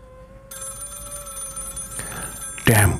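A telephone bell rings in the middle of the night with a bright, sustained electronic trill, then a sharp louder clatter near the end.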